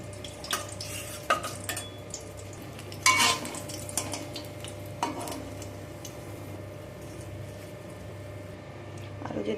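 Pabda fish frying in a pan, a steady low sizzle running throughout with scattered clinks and scrapes of a utensil against the pan, loudest around the middle.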